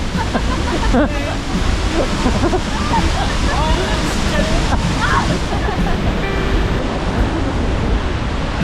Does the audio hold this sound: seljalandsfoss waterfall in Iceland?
yes